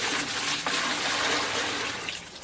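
Water pours and splashes steadily for a couple of seconds while a mini wine cellar is being built, a close, continuous rushing sound with no talk.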